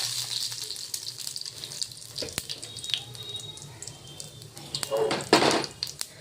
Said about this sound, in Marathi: तेल तापलेलं आहे, यामध्ये जिरं टाकलेलं आहे